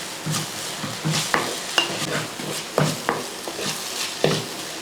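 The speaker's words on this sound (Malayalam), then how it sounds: "ഇനി ഒന്ന് ഇളക്കി കൊടുക്കുക." Dry chilli chicken in sauce is stirred in a hot pan, a steady sizzle broken by repeated sharp scrapes and clacks of the spoon against the pan at an uneven rhythm, close and clear.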